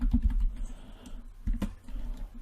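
Close, steady typing on a computer keyboard with irregular key clicks and a couple of louder bursts of presses, heard alone without speech.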